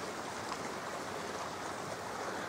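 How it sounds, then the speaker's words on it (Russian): A stream flows below a long tree-lined road on Rhodes, Greece, a faint, even rushing wash of water that continues steadily without any voices. "внизу протекает ручей"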